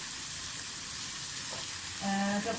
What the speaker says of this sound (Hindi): अब आप इनमें आलू डाल दें। इनको थोड़ा सा फ्राई करें।